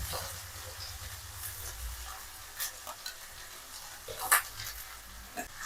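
Onions, garlic and dried red chillies frying in a pan for a dill-leaf palya, giving a soft, steady sizzle with occasional small pops and stirring scrapes, heard close by with no talking.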